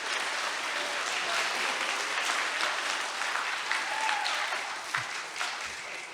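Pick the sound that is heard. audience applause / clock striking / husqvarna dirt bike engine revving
audience applause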